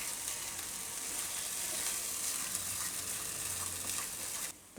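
Gunda vegetable in white gravy sizzling and frying steadily in a pan with oil, a continuous close bubbling crackle that stops abruptly at the end.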